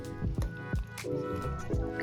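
Water being poured into a pot of Jamaican curry goat gravy gives a few wet drips, splashes and sloshing squishes, close and intermittent, over a faint humming background.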